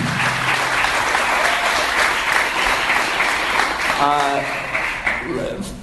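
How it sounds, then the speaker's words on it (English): An audience at a live comedy show applauds, steady dense clapping that fills the room while a voice speaks over it. "Give them a round of applause."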